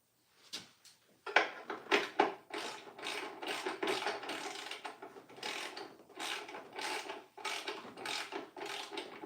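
A ratchet clicks in repeated bursts while tightening parts on a Honda ATC110 three-wheeler in a shop. The strokes come in an irregular rhythm and are close and fairly quiet, with a few separate clicks before the steady ratcheting begins.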